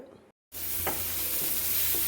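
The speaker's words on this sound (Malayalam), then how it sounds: "ഉള്ളിയിട്ട് മൂപ്പിച്ച് അതിന് അല്പം മുളക് പൊടിയും കൂടി ഇട്ടിട്ടുണ്ട്" Onions sautéing in hot coconut oil in a pot give a steady, loud sizzle that starts abruptly after a short silence, with a few soft scrapes of stirring over the continuous crackle and no voices.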